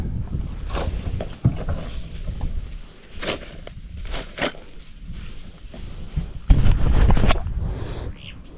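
A boat fitted with two engines travels home, its low rumbling drone and water wash running throughout, with thumps and a louder surge near the end.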